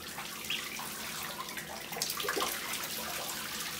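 Pekin ducklings splash and paddle in shallow bath water, giving light, irregular sloshing and dripping at close range, soft and continuous with no voices.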